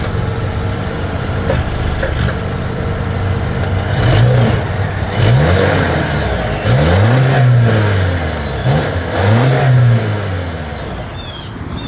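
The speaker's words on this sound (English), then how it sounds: "As always, here is that exhaust clip." A 2023 Volvo XC40 revs its engine at the exhaust, several rising-and-falling blips over a steady idle, loud and close with no talking.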